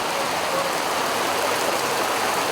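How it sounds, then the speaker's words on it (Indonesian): Steady rain falls outdoors in Bandung during an open-air ceremony, a loud, even hiss of broadband noise that runs unbroken with no voices. "ditemani oleh hujan yang menjadi berkah di bumi Bandung"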